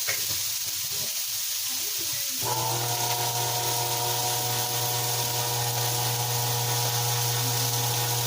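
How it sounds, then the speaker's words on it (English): An old electric can opener whirs steadily as it opens a can of tomato sauce in a home kitchen, a constant mechanical hum starting partway in and continuing alone over faint background hiss. "the noise you heard there was my ancient can opener"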